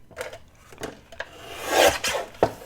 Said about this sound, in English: And I'm just going to cut a small piece.